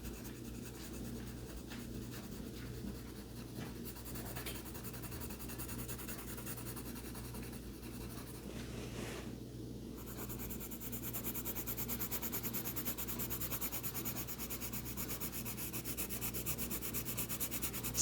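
Steady dry rubbing and scratching of a coloring pencil shading on paper, continuous and close, with a low hum underneath and no talking.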